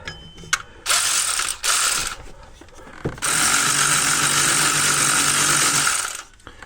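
An electric ratchet removing a bolt on a 2019 Ford F-250 6.7 Powerstroke, close and loud, with a few short whirring bursts followed by one long sustained buzzing run.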